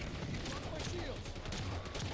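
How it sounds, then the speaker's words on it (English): Rapid, sustained gunfire in Halo multiplayer, a dense crackling barrage of shots with booms mixed in, loud and continuous throughout, with voices chattering faintly beneath. "Enemy fire."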